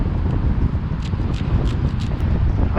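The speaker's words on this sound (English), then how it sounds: "It's pretty windy" Strong gusting wind buffets the microphone outdoors during metal detecting in Oakland in stormy weather, a constant loud low rumble with faint scattered higher rustles.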